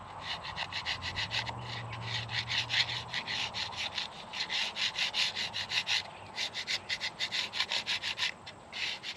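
A stiff plastic scraper works grime off a gravestone in quick, rhythmic back-and-forth strokes, close up and steady, with a few brief pauses between runs.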